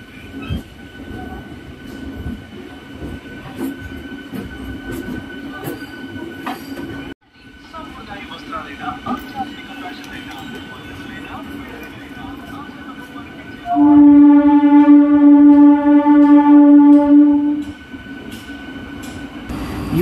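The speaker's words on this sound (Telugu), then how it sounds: "ఇప్పుడు మరొక వందే భారత్ ట్రైన్ కాజీపేట్ జంక్షన్ దాటుతోంది." A Vande Bharat train passes through Kazipet Junction with a rolling, clattering rumble; partway through, a loud, sustained multi-tone horn sounds for about four seconds before the rumble continues.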